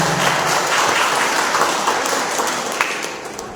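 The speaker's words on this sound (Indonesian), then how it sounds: "Bagi tepukan untuk rombongan." Audience applause for a visiting women's service committee delegation at a church gathering, a dense, steady wash of many hands clapping that fills the room and eases slightly toward the end.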